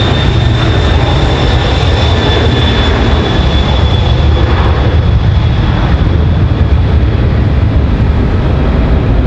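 A FedEx cargo jet departing Raleigh Durham airport roars loudly and steadily throughout, a dense, continuous engine blast close by with a thin high whine.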